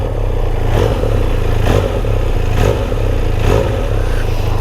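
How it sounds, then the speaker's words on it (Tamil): Motorcycle fitted with a Whitehorse aftermarket exhaust idling steadily, a loud, close, low rumbling drone with a lumpy pulse, swelling slightly about every second, with no talk. "ஸோ எக்ஸாஸ்ட் நோட் வந்து கேளுங்க"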